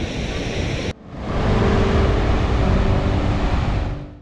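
Surf washes steadily onto secluded, uncrowded Mattu Beach near Udupi in Karnataka, a dense, close roar of breaking waves with gusty wind buffeting the microphone.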